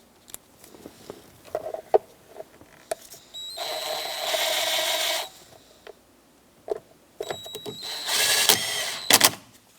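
A screwdriver drives 5.5mm screws into a 2008-2010 Ford F-450 steering column while replacing the ignition switch, giving scattered taps and clicks and two longer whirring bursts of driving, close and fairly loud.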